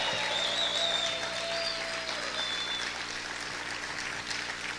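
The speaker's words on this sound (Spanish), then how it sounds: "¿Cuántos pueden gritar y aplaudir fuerte al Señor?" A church congregation claps and cheers steadily in a large room, a dense continuous wash of applause at moderate volume that fades slightly toward the end.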